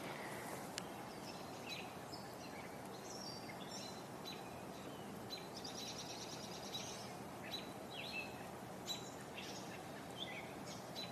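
Robins and a catbird singing in trees outdoors in summer, scattered chirps and warbling phrases at moderate distance over a constant ambient wash, with no talking.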